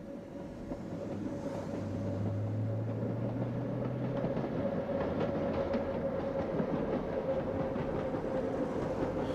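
A metre-gauge electric train of the Petit Train Jaune in France, rolling stock dating from 1908, rumbles steadily along the rails with rhythmic clatter and a low electric hum, heard from on board with no talking.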